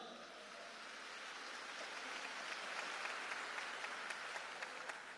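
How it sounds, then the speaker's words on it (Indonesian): Sustained audience applause at an Islamic boarding school gathering at Gontor, a large crowd clapping in a dense, steady wash that swells slightly toward the middle and carries on to the end. "Beri tepuk tangan yang meriah untuk beliau."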